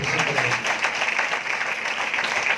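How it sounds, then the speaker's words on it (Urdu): Loud, sustained applause from a church congregation, dense clapping filling the whole stretch with steady intensity and no pauses. "بجائیے زوردار تالی"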